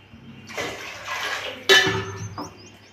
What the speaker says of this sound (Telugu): పోపు వేగిపోయినాక 2 గ్లాసులు అయితే వాటర్, ఇప్పుడు 1 గ్లాస్ వేసాను. రెండోది వేస్తున్నానండి.